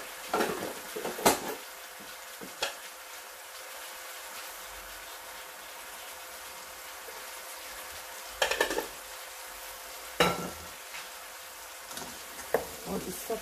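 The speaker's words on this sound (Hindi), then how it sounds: "और इस सब को मैं अच्छी तरह से अब मिक्स कर देती हूँ।" Coriander powder and kasuri methi are stirred together in a pan for yakhni rice, with a faint background hush broken by a few scattered spoon clinks and scrapes against the metal.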